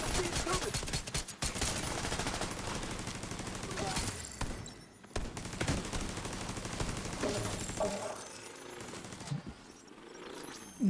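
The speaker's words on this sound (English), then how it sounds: "why is the turret shooting at like nothing?" An automated turret in The Division lays down rapid, sustained bursts of gunfire, with dense machine-gun rattle continuing through most of the stretch and a couple of short pauses in between.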